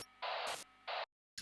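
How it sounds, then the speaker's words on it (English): Harsh, heavily compressed radio static with a growling, feedback-like distortion from an electronic music production comes in loud, choppy bursts that cut abruptly to silence before the static returns. "this growl static thing right here is like OTT feedback"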